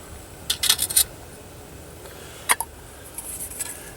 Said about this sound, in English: And I'll put the lid on it.